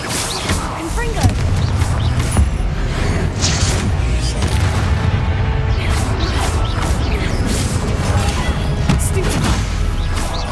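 Confringo blasting spells burst repeatedly in Hogwarts Legacy amid a dense, loud clamor of crashes, booms and combat effects, with a voice shouting over the chaotic din.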